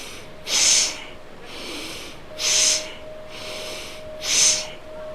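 Three sharp nasal inhalations during yoga practice, arriving at an even pace roughly two seconds apart, each one a close, loud, breathy rush with a faint steady hum beneath.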